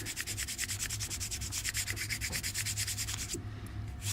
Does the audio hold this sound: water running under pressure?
no